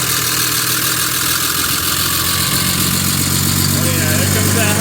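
A 2006 Mega Cab manual pickup with a big-turbo Cummins diesel, S&B intake and Sinister Diesel elbow, holds a loud, steady high idle close by with a constant drone and turbo whine throughout.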